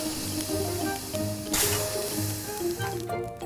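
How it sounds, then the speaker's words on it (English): Continuous crackling sizzle of carrot, tomato, eggplant and green pepper frying in a hot pan, with a burst of louder hissing midway and faint tonal music or beeps underneath. "Let's add our vegetables and get them sizzling."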